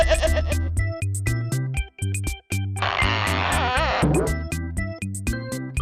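A goat bleats once in a long wavering cry over a bouncy children's music track with a steady beat, in a kids' farm-animal sound lesson.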